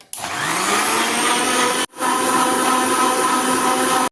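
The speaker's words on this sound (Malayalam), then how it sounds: "ഇനി ഒന്ന് അടിച്ചെടുക്കാം" Electric blender whirring as it blends beetroot with water for juice, a loud steady motor drone that stops briefly partway and then runs on, with no voices.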